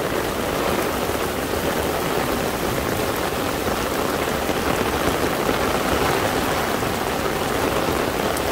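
Heavy downpour in Gwangju, a dense, steady roar of rain hitting surfaces that holds constant and fairly loud throughout, with no voices or other sounds breaking through.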